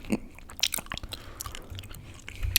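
Gum chewed close to the microphone for ASMR, with a steady run of wet, sticky smacks and soft squishing clicks, quiet and intimate, with no talking.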